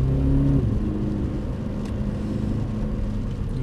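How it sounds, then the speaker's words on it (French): Toyota GT86 accelerating on the Paul Ricard circuit, a loud, steady engine drone heard from inside the car, with a slight pitch rise early on and no voices. "Allez, accélère, accélère, accélère."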